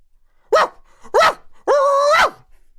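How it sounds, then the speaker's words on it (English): A dog barks three times, close and loud, the last bark drawn out longer than the first two, with short silent gaps between. "tried to drown out the noise by barking"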